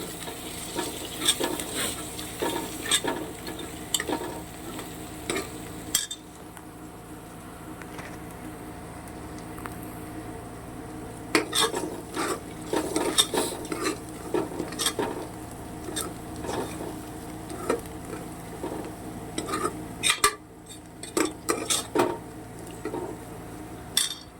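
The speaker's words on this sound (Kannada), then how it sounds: "ಈಗ ಇದನ್ನು ನೀಟಾಗಿ ಮಿಕ್ಸ್ ಮಾಡ್ಕೊಳ್ಳೋಣ" A spoon stirs paneer ghee rice with kasuri methi and coriander leaves in a pan, producing repeated soft scraping and light sizzle in irregular bursts with brief pauses, close and moderately quiet.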